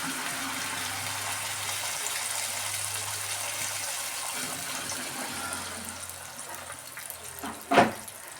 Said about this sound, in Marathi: किटलीतलं पाणी टाकून घेत आहे।